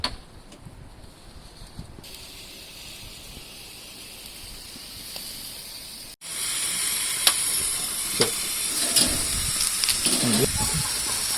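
Prawns on a barbecue grill give a steady sizzling hiss that grows louder and brighter partway through, with scattered small pops and crackles and no talking.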